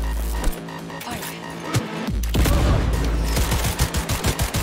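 The Skippy smart pistol fires in Cyberpunk 2077, a loud burst of rapid shots followed by a rhythmic string of closely spaced reports, up close and with no talking.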